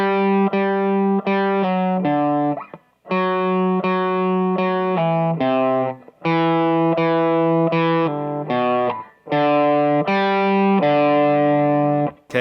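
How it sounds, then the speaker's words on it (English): A distorted electric guitar plays pull-offs on strings 4 and 5 for a song. Loud, close phrases of quick repeated notes come in bursts separated by short gaps, with no speech. "So we're going to be doing the pull off in the same spot."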